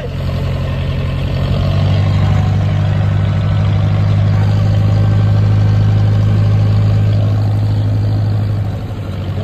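A boat engine runs steadily, a loud low droning hum that holds constant throughout with a rumbling tone and no speech over it.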